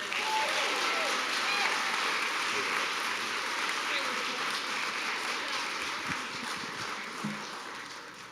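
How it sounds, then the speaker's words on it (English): Audience at a school district board meeting applauds steadily for several seconds, a dense, even clapping from a roomful of families, students and staff that tapers slightly toward the end. "a big round of applause for the last one of the"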